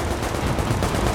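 Automated turret firing in The Division video game, a dense, continuous burst of gunfire that holds steady and loud through the whole moment without pause.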